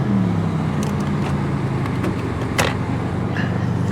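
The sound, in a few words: car engine revving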